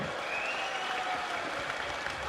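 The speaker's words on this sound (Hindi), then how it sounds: "जोर से ताली बजाइए असीम सरकार जी के लिए।" A large outdoor political rally crowd in Memari, West Bengal, claps steadily for a candidate, with dense, continuous applause at moderate volume throughout.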